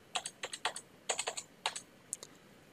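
Keystrokes on a computer keyboard as an account number is typed, about fifteen quick clicks in short bursts with brief pauses, close and fairly quiet with no talking.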